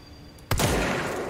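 After a brief hush, one sharp, loud shotgun blast in the video game Control cracks out and leaves a booming echo that trails off.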